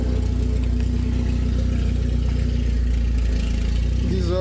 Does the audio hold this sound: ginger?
no